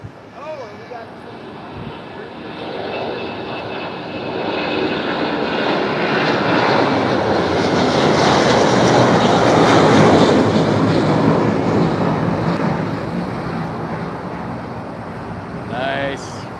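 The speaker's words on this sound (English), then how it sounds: "I think we got another A330 coming" An Airbus A330 airliner approaches, its jet engine roar swelling from a distant hum to a loud peak around the middle before easing off, with people talking faintly underneath.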